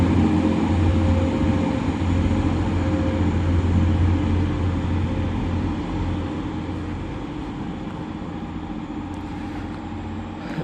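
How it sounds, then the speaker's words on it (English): TransPennine Express class 185 unit 185151 pulls out of Dewsbury station, a loud steady diesel rumble and drone that slowly fades as it departs, with no voices. "departing now is going to be the 11:55 Transpennine Express service to Scarborough via York and Leeds"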